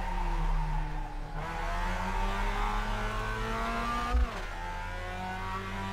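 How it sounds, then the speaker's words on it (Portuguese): Mazda race car in iRacing at Tsukuba, engine revving hard and climbing in pitch through the gears, with a brief shift dip near the end; loud and continuous, no talk. "é hora de acelerar"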